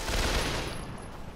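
Rapid bursts of video game gunfire crackle in dense, continuous volleys, loud and close throughout with no pauses.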